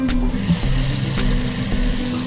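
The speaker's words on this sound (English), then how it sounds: "Got my sink all washed out." Water runs steadily from a tap into an RV sink as it is washed out, a constant close splashing rush with no talking.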